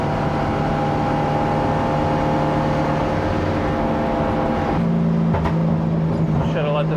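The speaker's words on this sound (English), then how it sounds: "I feel like I can drive faster here now." Car fitted with new coilovers driving on a bumpy, winding road, a continuous close engine drone and road rumble with tire noise, shifting in tone partway through as the car accelerates.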